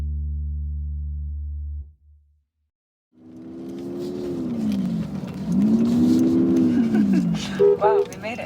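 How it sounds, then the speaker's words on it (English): Truck in four-wheel drive straining up a hill on the Navajo Nation, its engine droning and rising and falling in pitch as it is floored, loud and sustained after a brief tone and a second of silence. "We threw it in four-wheel drive, and eventually we just had to floor it and inch our way up the hill."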